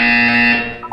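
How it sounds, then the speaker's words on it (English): A buzzer from the video game Portal 2 sounds as a single loud, harsh, steady electronic tone lasting about a second, close and alone. "You will hear a buzzer."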